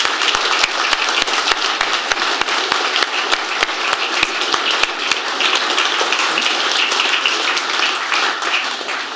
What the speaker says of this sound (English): Ladies and gents, give them a round of applause